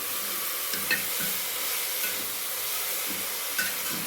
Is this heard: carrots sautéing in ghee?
yes